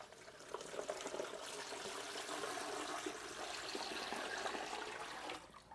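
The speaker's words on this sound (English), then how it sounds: "And now we will pour in our brine." Salt brine poured over a Christmas ham in a container, a continuous splashing, gurgling pour that runs steadily for several seconds before tapering off at the end, close and fairly quiet.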